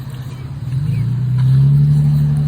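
A car passes on a road near a walking group, its engine hum swelling steadily louder and closer over a couple of seconds, with no speech during the pass.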